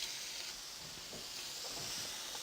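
Lamb sizzles in a hot pan: a steady, soft hiss of frying meat holding evenly, with faint stirring and scraping movements beneath it and no talk.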